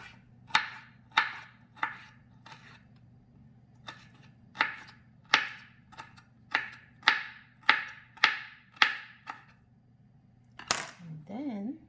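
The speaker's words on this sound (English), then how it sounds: "I'm just going to chop up the bell pepper, the one that I saved, the small sliver that I saved" Knife chopping a small saved sliver of bell pepper on a board: about a dozen sharp, close taps in an uneven steady rhythm, with a constant low hum underneath.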